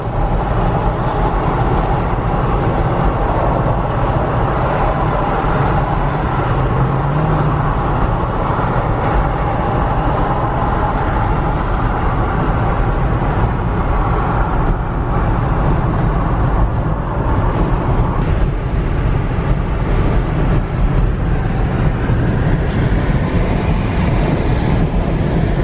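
Car towing a trailer along a road, heard from inside as a loud, constant rumble of engine and road noise that continues without a break.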